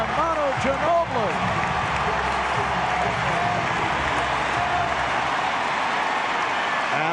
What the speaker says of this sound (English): And that brings this crowd to his feet